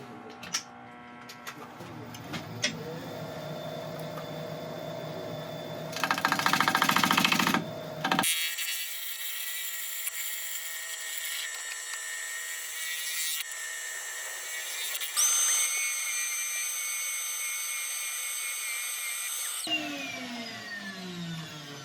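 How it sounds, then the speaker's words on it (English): Palm sander working a spalted sycamore bowl on a lathe, a steady whirring buzz that shifts in pitch and loudness as the tool moves, mixed with lathe hum and intermittent louder bursts. "I'm using a palm sander, it's just to help get as flat a surface as possible"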